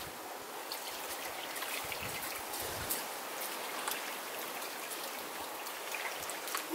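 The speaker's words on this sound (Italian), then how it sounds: "Ora andiamo a buttare l'acqua." Water poured onto soil around a young walnut seedling growing from the woods, a steady, fairly quiet splashing trickle with small bursts, alone without talk.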